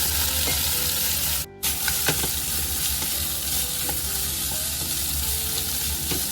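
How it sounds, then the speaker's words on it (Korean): Vegetables and bean sprouts stir-fry in a hot pan for homemade miso ramen, a loud, steady close-up sizzle with scattered clinks of stirring and a brief break partway through. "자, 그 다음에 이렇게 좀 달달 볶아줍니다"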